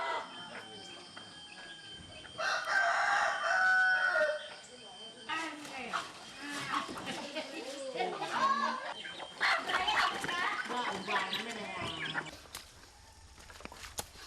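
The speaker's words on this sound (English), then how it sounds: "a chicken shows up" A domesticated chicken living wild in the Borneo rainforest clucks and calls in short bursts amid dense forest ambience, with a louder stretch early on and voices talking intermittently.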